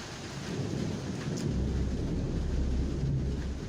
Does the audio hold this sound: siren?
no